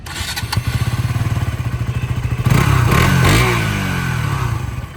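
A motorcycle with an underbelly exhaust idles close by with a steady, heavy, throbbing beat, then the rider revs it up about halfway through and the note rises and falls back toward idle, loud and alone with no talking.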